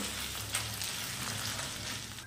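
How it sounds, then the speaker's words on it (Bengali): Ginger-garlic paste frying with onions in a pan, a steady close sizzle with faint stirring scrapes throughout, no voices. "এবারে আদা রসুনটা এই পেঁয়াজের সঙ্গে ভালো করে মিশিয়ে দিয়ে একটুখানি ভেজে নিতে হবে"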